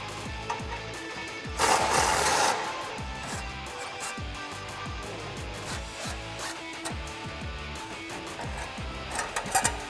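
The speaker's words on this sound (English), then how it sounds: "We're going to take our 13mm on our gun. I'm going to loosen this up." A pneumatic impact gun with a 13mm socket loosens a muffler clamp nut under a 2011-2014 Mustang GT. It gives one short, loud rattling burst of about a second, surrounded by softer rhythmic mechanical tapping in the workshop.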